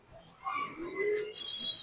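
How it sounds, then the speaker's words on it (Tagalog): A homing pigeon coos as it returns to its loft: a few soft, rolling coos with a brief chirp, close and fairly quiet against a calm background. "meron tayong pangalawang ibon"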